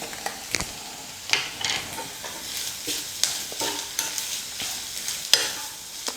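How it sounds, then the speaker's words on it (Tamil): Onion and grated coconut sauté in a pan while being stirred, giving a steady crackling sizzle broken by scraping stir strokes close by, with no talking. "வெங்காயம் தேங்காயெல்லாம் நல்லா வதங்கிடுச்சு."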